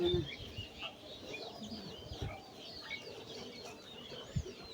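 Soft clucks and chirps from domestic chickens in a home setting, scattered and fairly faint against low background noise.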